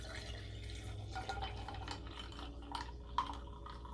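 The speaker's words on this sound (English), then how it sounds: "pouring the coffee." Home-steeped coffee is poured over a few ice cubes in a glass, giving a soft continuous liquid trickle with small clinks and crackles from the ice, faint and close.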